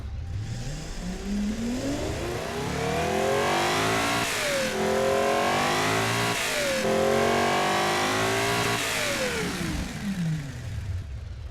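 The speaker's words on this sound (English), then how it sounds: "Now that sounded like a big V12." A tuned car engine fitted with new catalytic converters and better mufflers revs up and down several times, its pitch sweeping high and falling back, loud and close with no talk.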